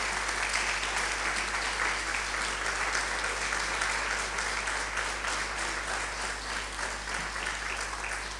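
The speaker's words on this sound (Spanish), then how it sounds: "Den un aplauso a ese Dios todopoderoso" A church congregation claps steadily for about eight seconds, a dense, even wash of many hands over a constant low electrical hum, with no voices rising above it.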